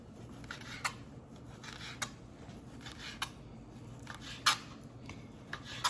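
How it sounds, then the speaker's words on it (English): Four strips of leftover bacon being cut into small chunks for green beans, with a series of quiet, sharp cutting snips spaced irregularly against a soft kitchen background. "I have exactly 4 strips of bacon left over. So I'm going to go ahead and cut these up."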